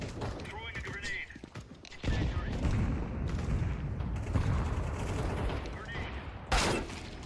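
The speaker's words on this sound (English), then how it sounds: "Throwing a grenade." Video game combat with a grenade throw: a heavy booming explosion and bursts of rapid gunfire with mechanical clatter, plus a sharp crack near the end, all under a player talking.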